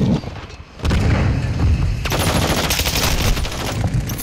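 Gunfire in Call of Duty: Modern Warfare II multiplayer on a new map, loud rapid automatic bursts with booming impacts, dense and continuous after a brief quieter opening.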